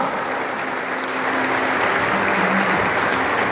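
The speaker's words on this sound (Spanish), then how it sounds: "Fuerte el aplauso para Santiago Mendoza." Steady applause from a crowd fills the whole stretch, dense and sustained without pause, with a faint murmur of voices underneath.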